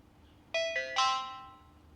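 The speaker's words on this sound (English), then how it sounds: "A few beeps to confirm that." A short run of electronic beeps from a HOVERair X1 drone confirming activation, three rising tones in quick succession, clear and close over a quiet background.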